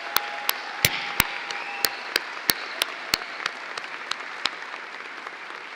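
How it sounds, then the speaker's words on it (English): Audience at a Bow Valley College spring convocation ceremony applauds, a steady wash of many hands clapping with a few sharp louder claps, slowly thinning out. "let's give them a round of applause to recognize their commitment to you"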